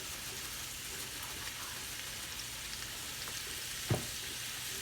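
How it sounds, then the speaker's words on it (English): Onions sweat and caramelize in a pan while cooking cube steak, giving a soft, steady sizzle and crackle throughout, faint and even, with one small knock near the end. "I want these onions to sweat and caramelize a little bit before I add anything"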